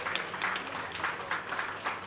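An audience claps at a breast cancer screening and awareness drive, giving a dense, steady round of applause for about two seconds that stays fairly faint and distant throughout.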